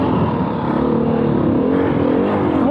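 A 2021 Beta 500 RRS dirt bike engine drones loudly and close for a few seconds, its pitch shifting slightly as the rider works the throttle.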